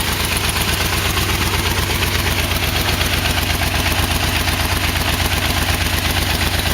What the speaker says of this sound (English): Sounds like I got some kind of a miss in one cylinder.